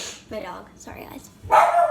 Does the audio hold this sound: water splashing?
no